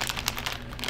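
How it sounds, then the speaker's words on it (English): Crinkly plastic wrapper of gummy ice cream cone candies torn open by hand, a burst of sharp close crackles and rustles in quick irregular bursts, no talking. "Let's get this little wrapper off here."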